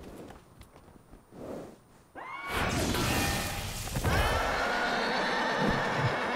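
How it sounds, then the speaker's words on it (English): A horse demon from Devil May Cry 5 lets out a loud, close whinny mid-clip. Heavy hoof-like clatter and a dense roaring game soundscape follow and keep going, with no talk. "Horse demon and a knight."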